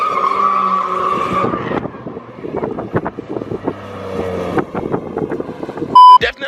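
A twin turbo Audi R8 does donuts, its engine roaring and revving in loud bursts while the tires squeal and skid, with wind buffeting the microphone and a sharp tone near the end.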